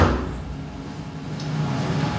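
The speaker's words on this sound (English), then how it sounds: "You can open the door" A SkyfireCNC machine enclosure door swings open with a soft sliding rumble and a faint light click, set against a low steady hum of the powered machine.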